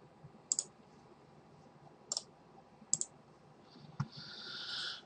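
Computer mouse clicks in a quiet room while adding a component in Altera v12.1 SOPC Builder software: three sharp, separate clicks, one more soft click, then a brief hiss. No voice.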